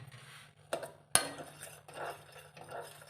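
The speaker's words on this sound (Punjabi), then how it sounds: "ਚਮਚੇ ਨਾਲ ਇਹਨੂੰ ਥੋੜਾ ਘੋਲ ਦੇਣਾ।" A spoon stirs spices into milk in a pot for a cough and cold kadha, making a few metallic clinks and scrapes against the pot at close range, with no talking.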